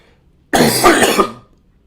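A single loud, harsh throat-clearing cough bursts out close by, lasting about a second before trailing off into silence.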